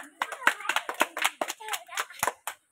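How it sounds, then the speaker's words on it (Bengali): Rapid, irregular hand clapping from a group at an Independence Day quiz, with sharp overlapping claps filling the moment at close range and quieter voices mixed in underneath. "হাততালি দাও।"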